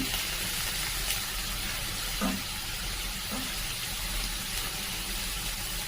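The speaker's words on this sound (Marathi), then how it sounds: "कांद्याची पात निवडून आणि स्वच्छ पाण्याने धुवून घ्यायची" Spring onions rinsed in clean water in a home kitchen, with a steady, fairly soft hiss of running water throughout and an occasional faint clink or splash.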